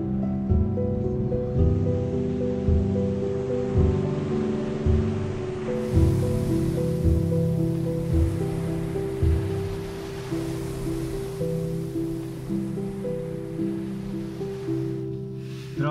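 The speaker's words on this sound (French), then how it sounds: "le vent est si fort qu'il souffle les vagues, les dunes" Strong wind roars steadily over ocean surf on White Rocks Beach in Northern Ireland, a broad continuous rush with waves breaking in repeated surges and blown sand and dune grass hissing alongside, loud and close throughout.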